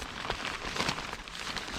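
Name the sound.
rain coming down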